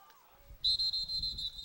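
A referee's whistle blows a play dead at a rainy high school senior football game, Loyola versus STA: a shrill, sustained whistle in several bursts over faint crowd noise.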